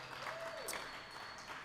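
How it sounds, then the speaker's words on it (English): An audience at a live event in Naples claps briefly, soft and somewhat distant, with a faint tone and light voices in the background. "Yeah, you can applaud for that."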